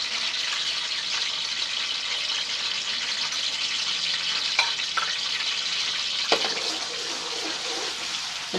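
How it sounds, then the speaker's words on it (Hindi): Ginger-garlic paste fries in hot oil for a chicken jalfrezi, giving a steady, close, hissing sizzle with a few sharp pops and spoon clicks, no voices. "इसको 1 मिनट के लिए फ्राई कर लेंगे।"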